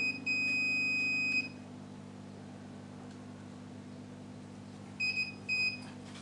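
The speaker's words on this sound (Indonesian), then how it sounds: "Saya coba buzzer dulu kapasitornya." Multimeter continuity buzzer checking a capacitor during repair of an Acer E1-472 laptop that won't turn on: one long steady beep, then silence, then two short beeps at the end, close and clear.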